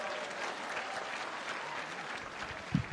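Audience applause for the good men at a World AIDS Day event at Kibabii University, a steady crowd clapping throughout with a brief louder thump near the end.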